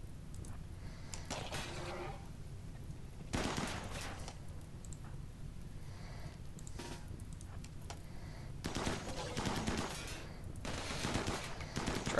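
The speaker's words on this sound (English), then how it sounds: "Just keep firing on it." Gunfire from a defensive turret and colonists in RimWorld, faint and distant bursts of rattling shots scattered across the stretch over a low background, without talk.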